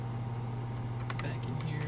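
Computer keyboard shortcuts for copy and paste are pressed during game prep, a few quick clicky keystrokes over a low steady hum while someone speaks quietly.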